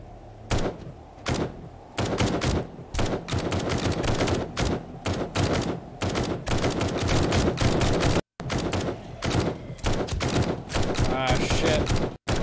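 Rapid, sustained video game gunfire aimed at zombies, dense bursts of shots with brief gaps, repeating steadily and loudly over about twelve seconds with some voices faintly beneath.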